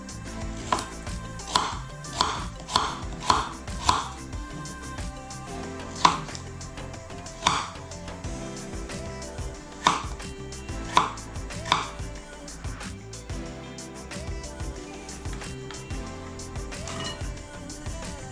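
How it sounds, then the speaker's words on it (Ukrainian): Knife chopping carrots on a cutting board, a quick burst of sharp taps followed by slower, spaced cuts, close and clear with faint kitchen clatter. "наріжемо морку."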